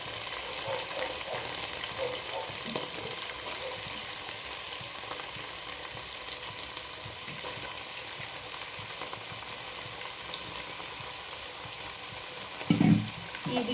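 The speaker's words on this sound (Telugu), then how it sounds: "ఆయిల్లో అయితే ఇట్లా ఉడకబెట్టాలి మంచిగా" Beans, potato and carrot fry in hot oil for a Telangana bagara rice vegetable curry, giving a continuous close sizzle with light stirring scrapes and a brief clunk near the end, no voices.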